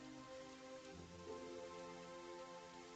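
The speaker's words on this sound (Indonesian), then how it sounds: "Hujan lagi." Rain falling in a steady, faint patter, heard alone under a soft tonal music bed, with no talk.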